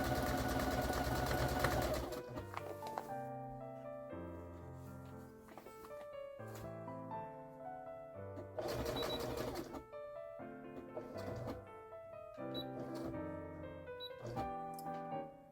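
A sewing machine stitches a quilt corner in short bursts, its mechanical whirr starting and stopping several times with quieter pauses and small clicks between runs.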